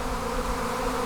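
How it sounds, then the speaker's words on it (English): A honey bee swarm assembles on a spruce tree, giving a dense, continuous buzzing hum at close range, steady and unbroken with no talking. "show you the swarm and the bees assembling on this tree"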